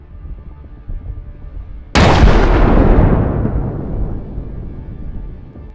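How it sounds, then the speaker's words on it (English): An armored vehicle hit by a drone strike explodes in a massive blast, a sudden loud boom that rolls on as a long fading roar over a low rumbling background. "The vehicle is engulfed in flames and eventually explodes in a massive blast."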